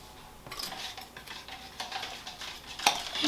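Acrylic paints being stirred and mixed for paint pouring, a few soft scraping and tapping strokes of a stick against a cup, close and quiet.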